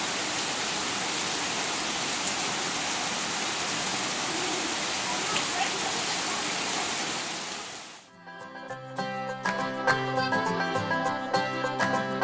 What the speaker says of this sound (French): Quand ça pleut, ça rigole pas ici.